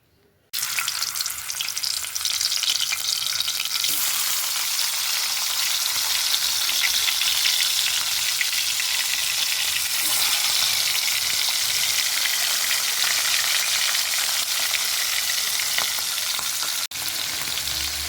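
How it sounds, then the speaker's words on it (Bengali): Tengra fish fry in oil with a loud, dense, continuous sizzle that starts abruptly after a brief moment of quiet and then holds steady throughout, with no voices. "এবার আমি মাছ ভাজবো।"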